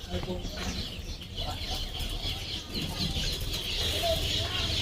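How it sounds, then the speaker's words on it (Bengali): A chicken clucks in a busy home kitchen, with repeated short calls that sit among household noise and nearby voices. "মুরগি চলে যাচ্ছে"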